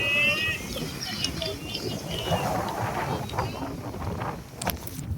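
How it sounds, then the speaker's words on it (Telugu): Strong wind roars and buffets the microphone in a continuous low rumble at an outdoor cricket match, with faint voices under it. "మస్తు ఘోరంగా కొడుతుంది గాలి"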